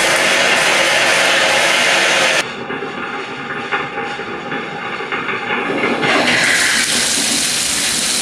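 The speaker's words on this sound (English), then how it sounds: "Now we've got full water coming out of the tub." Hot water rushes from a bathtub valve after air is purged, a loud, steady hissing gush that drops in pitch and sputters briefly before surging again, with no talking.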